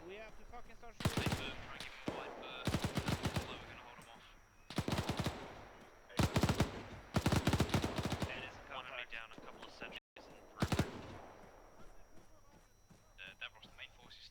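Bursts of automatic gunfire and single shots from a World War II game firefight, loud clusters separated by short pauses, with players talking over the action.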